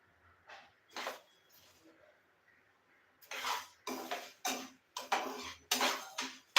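Black urad dal roasting in a pan, heard as repeated scraping and clinking strokes of a spoon against the pan, sparse at first then a steady series of louder close stirring bursts, with no talking.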